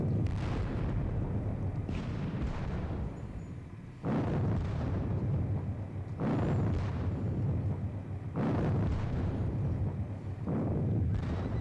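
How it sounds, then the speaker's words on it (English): Russian cannon fire booms in a Napoleonic-era battle game at Friedland, with heavy artillery blasts rolling out in four or five spaced volleys, each decaying slowly into a rumbling tail. "being just blasted in the face by a hell of a lot of Russian guns"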